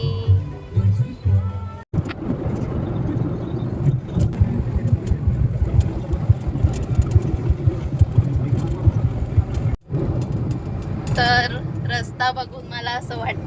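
Steady rumble of road traffic with engine noise throughout, people talking over it, and horn-like tones near the end.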